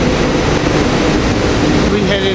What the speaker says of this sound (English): We got rail cars 364, 365, taking off.